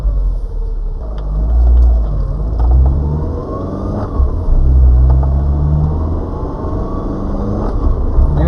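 A Twin-Cam car engine revs with a loud, throaty mid-range drone that swells and eases repeatedly, running steadily and up close throughout.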